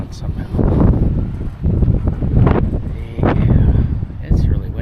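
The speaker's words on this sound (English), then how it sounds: "it's really windy today" Strong wind at a desert dispersed campsite, gusts pounding the microphone in loud waves, with someone talking intermittently between them.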